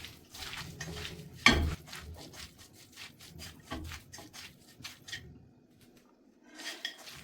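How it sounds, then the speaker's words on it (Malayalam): Hands rub dry shark fish with coconut oil for a Kerala dry fish thoran, making soft, uneven scraping and squishing strokes up close, broken by one sharp knock early on and a short pause near the end. "ഇനി ഇവയെല്ലാം കൈ ഉപയോഗിച്ച് നല്ലവണ്ണം തിരുമ്പി എടുക്കുക"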